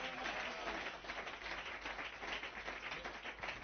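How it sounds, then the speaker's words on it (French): A church congregation applauding to the Lord during a French-language sermon, a continuous wash of clapping that holds steady at moderate volume for several seconds, slightly distant and roomy. "Donnez une main d'acclamation au Seigneur"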